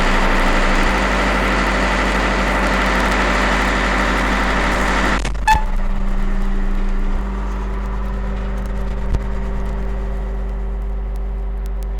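A J.I. Case Agri-King tractor engine drones steadily inside a closed cab in the field. A door thump midway cuts the outside roar, leaving a lower, muffled, even hum.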